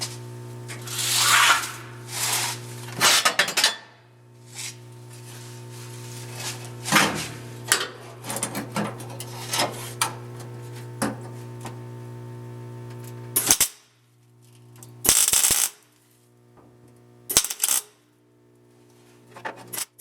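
MIG welding on a floor piece of a 1972 Triumph GT6 during restoration: a steady electrical hum under repeated short bursts of sharp crackling and spattering, close up, with brief pauses between welds.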